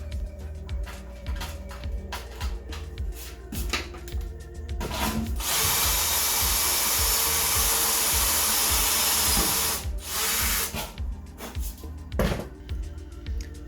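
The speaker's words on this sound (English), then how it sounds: "So what I got here is a step bit. I'm just gonna use this, and I'm gonna drill" A power drill with a step bit whines steadily for several seconds, close and loud, drilling holes in a PC case, with shorter bursts of drilling and handling clatter before and after.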